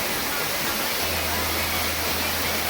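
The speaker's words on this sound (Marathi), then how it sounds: "एकविऱ्या आईचा कारल्याचा आपला धबधबा" A waterfall at Karla near the Ekvira temple, heard as a loud, dense, continuous roar of falling water that fills the whole short stretch, with a low rumble underneath.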